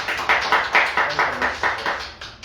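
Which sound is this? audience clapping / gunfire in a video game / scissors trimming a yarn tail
audience clapping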